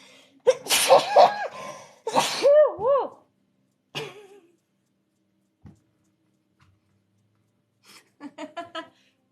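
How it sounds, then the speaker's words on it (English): Several sneezes burst out in quick succession, each with a sharp intake and explosive release, followed by quiet breaths and a final softer sneeze. "That was like 5 sneezes in a row."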